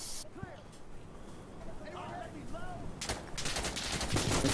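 Gunfire in the video game Insurgency Sandstorm, with enemy weapons firing amid grenade action, comes in as rapid, dense bursts that grow louder toward the end, following faint earlier shots and some background voice noise.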